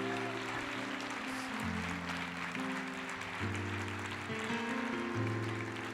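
A church congregation applauds steadily in praise during a worship service, a dense wash of clapping held at an even level, with sustained organ or keyboard chords underneath throughout.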